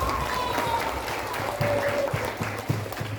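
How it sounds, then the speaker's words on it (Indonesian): An audience at an Isra' Mi'raj religious lecture claps for the teachers, a short burst of scattered applause with faint voices underneath. "Berikan tepuk tangan buat para guru-guru."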